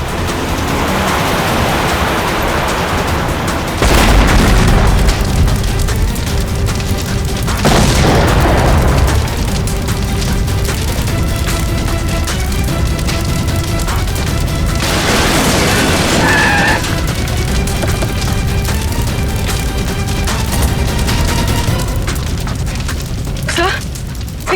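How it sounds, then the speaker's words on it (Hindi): A car bomb explodes in a television crime drama, heard as repeated heavy booming blasts and rumbling bursts spread across a loud, dense stretch, with dramatic music and effects layered on top. "लगता है इसकी गाड़ी में किसी ने बॉम्ब फिट कर रखा था।"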